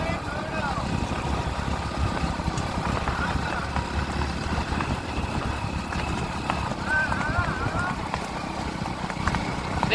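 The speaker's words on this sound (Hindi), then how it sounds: "इमरान भाई का और घोड़े का तालमेल देखिए" At a horse race in Bhachau, Gujarat, hooves clip-clop in a fast, continuous patter amid steady crowd and engine rumble, with someone talking over the scene.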